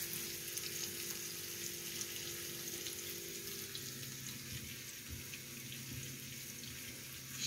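Onions frying in a pan while a Turkish wild asparagus and egg dish is prepared, a steady close sizzle and crackle that runs the whole time with no talking.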